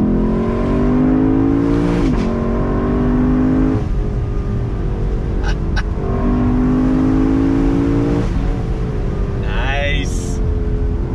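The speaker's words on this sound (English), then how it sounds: "Second gear on throttle, just pulls." A 2021 Lexus LC500 convertible pulls hard in second gear under throttle, its engine note rising in loud sustained sweeps with brief dips at shifts, heard from inside the car with someone talking over it.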